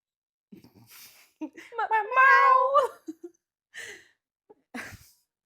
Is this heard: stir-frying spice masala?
no